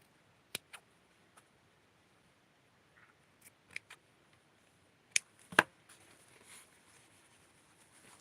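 Scissors snip fabric for small doll clothes in a handful of sharp, isolated clicks spread over several seconds, with a brief cluster of louder cuts near the end, close and otherwise quiet.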